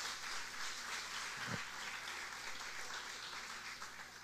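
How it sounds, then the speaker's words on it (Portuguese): Congregation applause at a Sunday church celebration service, a steady, fairly quiet wash of clapping filling the whole stretch with no break. "uma salva de palmas ao Senhor Jesus."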